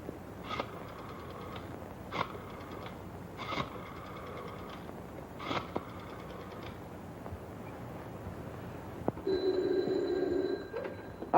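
An old-fashioned telephone bell from a 1938 detective film rings in four short, evenly spaced bursts, clear and close, with no talking, before a quieter different tone near the end.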